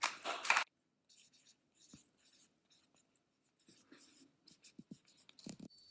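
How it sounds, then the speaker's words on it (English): A pen scratching out words on a plant pot for sweet corn seedlings, quiet close strokes in short irregular bursts with pauses, after a brief louder rustle at the start. "so it's your job to write sweet corn on there"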